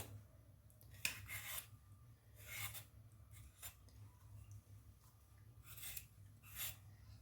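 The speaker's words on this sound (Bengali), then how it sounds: "এইভাবে ছাড়িয়ে নেব উপরে লাল খসাটা ফেলে দেব" A red radish having its skin peeled off in a kitchen, heard as several short raspy scraping strokes spaced a second or two apart over a steady low hum, close and fairly quiet.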